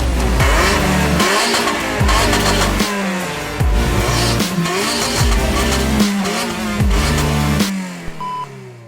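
The supercharged Honda K20 engine of an Ariel Atom 3.5 revs hard on track at Cadwell Park, rising and falling loudly through repeated gear changes, with brief tire squeal, close onboard and without speech.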